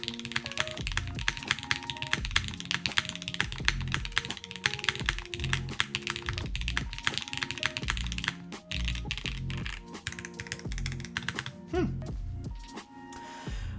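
A Haven60 custom mechanical keyboard clacks under steady typing, with dense firm keystrokes and occasional heavier thocks from a spacebar or stabilized key, close and alone.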